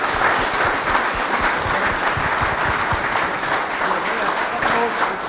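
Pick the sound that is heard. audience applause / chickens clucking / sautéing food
audience applause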